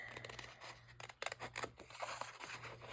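Small scissors fussy cutting mushroom images out of a paper sheet, a few faint, close snips and soft paper scraping and rustling.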